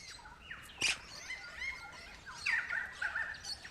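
Crimson rosellas in an Australian forest calling, a few sharp, piercing whistled notes and chirps in separate bursts near the start and again in a quick cluster later, over quiet bush ambience.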